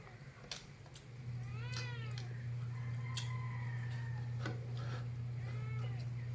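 Several cat meows, a few short and one drawn out, over a steady low hum with sharp clicks scattered between them.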